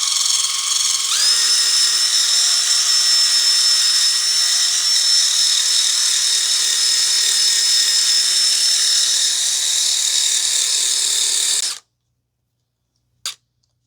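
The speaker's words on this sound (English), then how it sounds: "I'm just using a brass wire brush attached to an impact driver or drill, and we're just going to clean out the surface here." Brass wire brush spun by an impact driver or drill scrubbing corrosion off a rear differential mount on a 2015 Toyota Sienna 3.5 V6 AWD, a loud steady high whine running about eleven seconds, then stopping, followed by a brief click.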